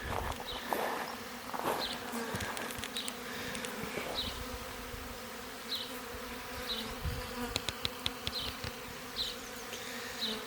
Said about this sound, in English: A massive swarm of bees has just arrived.